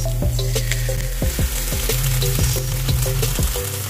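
Onion and oyster sauce frying in a pan while shrimp broccoli is being made: a steady close sizzle with repeated scrape-and-tap strokes of a utensil stirring against the pan.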